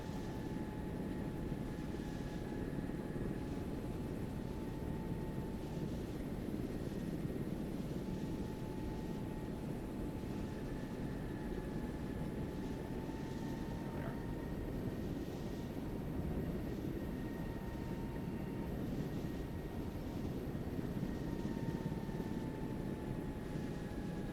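A military aircraft drones steadily on an active runway during a field training exercise, a distant continuous engine roar with a faint tonal whine and no voices.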